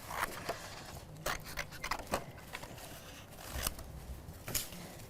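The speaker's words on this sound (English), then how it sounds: "I'm just going to just loosely cut round it" Scissors loosely cutting around decorative paper for a handmade greeting card, a quiet close series of irregular snips and crisp paper rustles.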